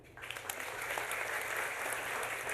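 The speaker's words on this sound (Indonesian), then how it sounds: "Tepuk tangan dulu." An audience at a church seminar on dating and marriage breaks into steady applause, a dense continuous patter of clapping that holds from start to finish.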